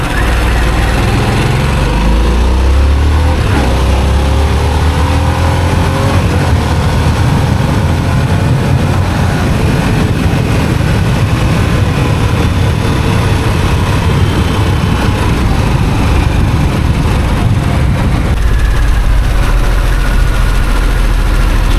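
A Harley-Davidson Sportster S 1250 cc motorcycle engine accelerates in sport mode, a loud continuous throaty roar that holds steady with wind rush for the whole stretch, no talk over it.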